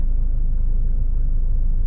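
Steady road traffic rumbles past on a busy street outside a mall, a continuous low drone of cars and engines close by, with no talking.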